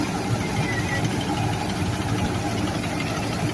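A Massey Ferguson vintage tractor engine runs steadily at an outdoor vintage harvest day, a continuous low, rumbling idle with an even knock throughout and no talk.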